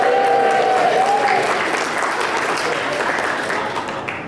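A banquet-hall audience at a formal dinner in Liverpool cheers and applauds in a dense, sustained roar that holds steady for several seconds before easing slightly, with a few whistles near the start.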